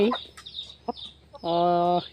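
A rooster gives a few short clucks, then a longer drawn-out call, close and fairly clear against a quiet background.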